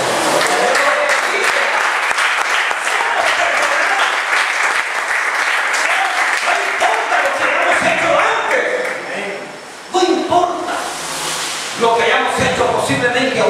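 A church congregation applauds after a sermon, loud dense clapping and cheering that dips briefly near the end before surging again, with voices mixed in.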